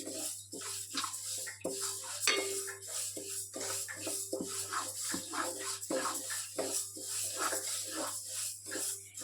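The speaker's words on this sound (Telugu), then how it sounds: "వీటిని బాగా వేయించుకోవాలి." Flax seeds roasting in a pan on the stove, giving a steady stream of light clinks, taps and scraping stirs against a faint background hum.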